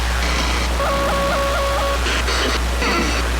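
Several short, nasal quacking bursts from a duck quack sample in the LostComzz audio plugin, over a steady low hum, with a thin electronic glitch tone warbling between them; processed, sample-like quacks rather than a live duck.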